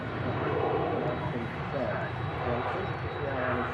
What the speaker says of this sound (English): You just hear the whistle from the CF6 engines on the 2E 767.